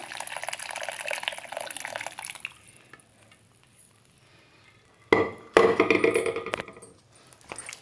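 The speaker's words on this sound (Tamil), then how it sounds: "அந்த தண்ணியவும் நம்ம இதில் வந்து ஆட் பண்ணிக்கலாம்." Water pours and splashes into a pot of channa masala for a couple of seconds, goes quiet, then comes in bursts of pouring and sloshing, close and moderately loud.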